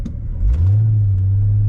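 A Chevrolet C5 Corvette V8 rumbles while driving, a low engine drone that swells into a steady revving growl, close and loud.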